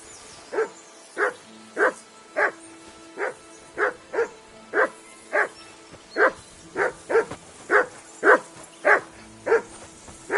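Steady, regular barking from a nearby dog, roughly sixteen loud evenly paced barks in a row with a quiet background between them.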